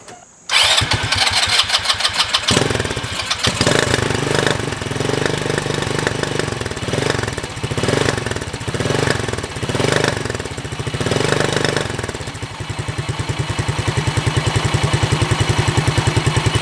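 A Polaris RZR170's small engine after a jetting adjustment cranks and catches almost at once, then runs loud and close with a steady rapid chugging idle that stays rough and uneven before settling into a more even beat.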